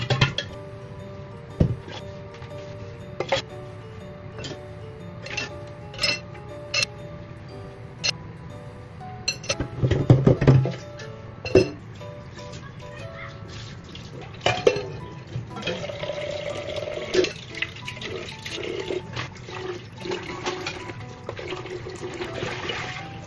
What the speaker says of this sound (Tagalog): hinugasan ko na nga rin itong mga hugasin namin